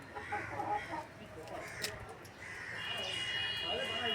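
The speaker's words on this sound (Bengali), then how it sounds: "মুরগি আছে দেখো ঝুড়ির মধ্যে" Chickens cluck and stir nearby in short, scattered bursts inside a shut basket, with a person talking over them and a faint rustle in the background.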